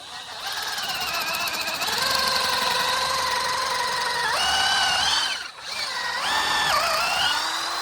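A power drill drives a 1/4-inch lag bolt into wet Carolina southern yellow pine, its motor whining loudly with rising, strained pitch, stopping briefly before spinning up again.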